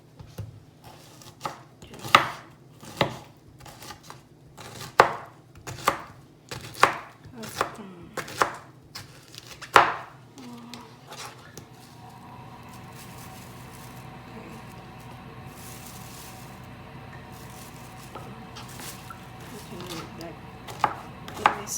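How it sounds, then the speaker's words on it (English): Vegetables for a Vietnamese vegetarian sweet and sour soup are chopped two pieces at a time on a small chopping board. About ten loud, uneven knife strikes come close up, then settle into a quieter kitchen background. "I'm gonna chop 2 pieces at the same time."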